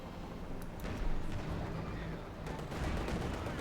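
Rocket artillery barrage from Katyusha launchers and a Panzerwerfer in a Company of Heroes 2 battle, a dense continuous rumble of launches and distant blasts with sharp cracks near the start and a swell toward the end.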